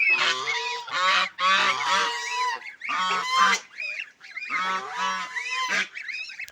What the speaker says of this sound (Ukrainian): Просто величезна сім'я гусей.